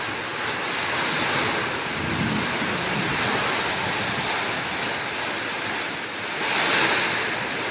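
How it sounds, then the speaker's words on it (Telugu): Strong wind roars continuously in broad gusty waves during a rainstorm, buffeting the microphone loudly, swelling again near the end; no voices. "ఎంత గాలి వస్తుందో."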